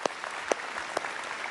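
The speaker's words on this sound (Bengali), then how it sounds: "বাহ, খুব জোরে একটা হাততালি হয়ে যাক।" Studio audience applause at a Bengali family game show, faint and continuous, with three sharp louder bursts spaced about half a second apart.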